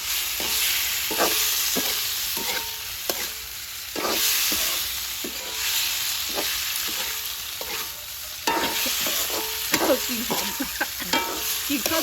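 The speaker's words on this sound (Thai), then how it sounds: "แล้วก็เอาลงไปผัดก่อนนิดนึงเนาะ" Small pieces of diced tofu stir-fry in a pan, with a steady frying hiss and repeated scrapes and taps of a spatula stirring.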